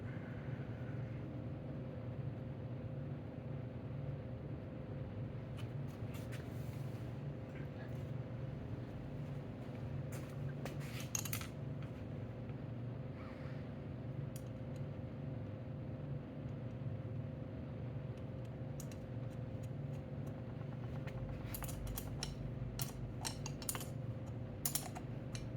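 Bolts are snugged down in a cross pattern during a full rebuild of a Tecate 4 engine. Scattered light ratcheting clicks come in bursts over a steady low hum.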